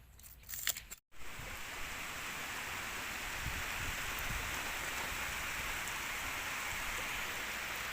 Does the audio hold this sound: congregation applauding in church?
no